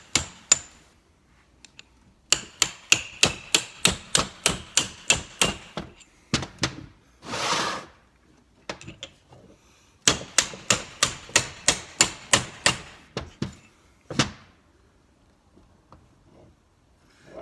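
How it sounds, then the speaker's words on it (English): Sharp metallic hammer blows strike a punch driving out a Jeep differential centering pin, coming in quick rhythmic bursts of about a dozen strikes, separated by pauses and a brief scraping rustle, close and clear. "It's going to be a little shaky because I'm going to be hammering"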